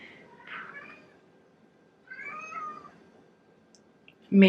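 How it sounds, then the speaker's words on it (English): A hungry house cat meows for food at home, two or three drawn-out meows spaced a second or two apart, close and fairly clear, with a sharp louder burst at the end. "My cat thinks that it's time to eat every time I come home"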